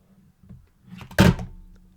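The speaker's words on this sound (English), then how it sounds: "The webcam fell off." A webcam drops off its mount with a single solid thunk, preceded by faint shuffling and small knocks, in a quiet room.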